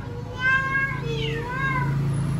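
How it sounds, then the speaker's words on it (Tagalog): A cat meows several times close by in a home kitchen, with drawn-out, rising and falling calls, the clearest in the first second and another near the end, over a steady low hum and no talk. "Oh, there's a cat."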